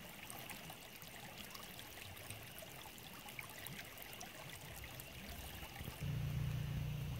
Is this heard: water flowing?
yes